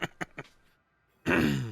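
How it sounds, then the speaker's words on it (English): A man clears his throat with a few short, sharp rasps, then pauses briefly before breaking into speech. "Sorry for clearing my throat there, but it was fighting me."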